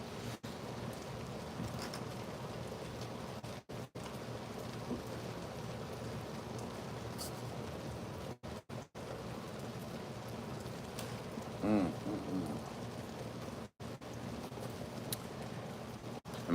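Steady rain falls on a mountain landscape during a lightning storm, with low thunder rolling beneath the constant patter and no voices.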